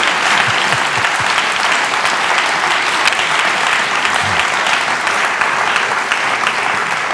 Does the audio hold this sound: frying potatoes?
no